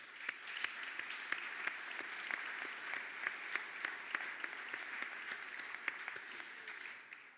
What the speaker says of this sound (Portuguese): pedir uma grande salva de palmas para a rede de comunicação dos fundos